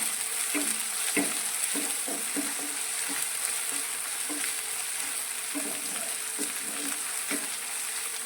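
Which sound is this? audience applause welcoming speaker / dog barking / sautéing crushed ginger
sautéing crushed ginger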